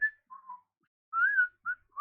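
A person whistles a short, clear melody alone, with several separate notes rising and falling, some held and some brief, and quiet pauses between phrases.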